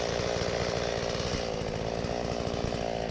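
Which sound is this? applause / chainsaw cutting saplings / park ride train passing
chainsaw cutting saplings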